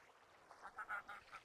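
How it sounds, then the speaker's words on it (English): Ducks in the online game Wurm Online give a few faint, soft quacks in a brief cluster against a quiet background. "Oh, ducks."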